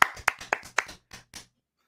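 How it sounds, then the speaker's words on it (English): A small live audience at a comedy improv show claps in a sparse, uneven burst of about seven distinct hand claps that thin out and stop within under two seconds, close and fairly quiet. "we're going to start with your applause"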